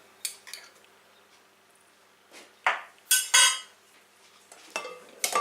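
Soda bread ingredients being mixed in a bowl (flour, bicarbonate of soda, salt and chopped butter), heard as scattered close clinks and scrapes of utensils against the bowl, with quiet gaps between louder bursts.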